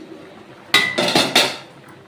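A pot of young bottle gourd and crab curry is covered with its lid, giving a few quick metallic clanks and rattles close by against a quiet background.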